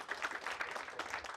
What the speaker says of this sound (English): Can we clap for him, ladies and gentlemen?